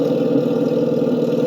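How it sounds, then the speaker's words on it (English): A 1/16 scale RC IDF M51 tank's simulated engine sound plays steadily and loudly, a continuous mid-pitched idling rumble with no talk over it. "Now, for engine startup, you pull this switch all the way down."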